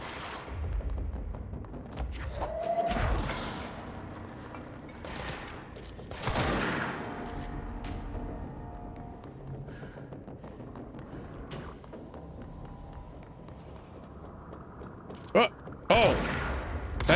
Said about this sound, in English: That's the launcher, dude.